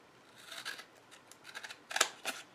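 Scissors snip through yarn while a tassel is being made, giving several quick, faint, close-up clicking cuts in short bursts.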